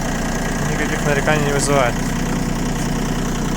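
A Japanese ISEKI TA317 tractor's engine runs at a steady idle-like rumble, close and continuous, while someone talks over it.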